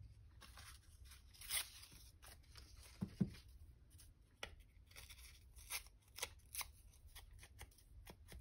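Scissors snip through junk journal paper, trimming an overlong page: a few sharp, crisp cuts and rustles spaced irregularly, quiet and close with no talking.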